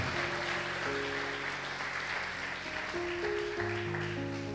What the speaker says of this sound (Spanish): Dale un aplauso al Señor si lo crees con todo el corazón.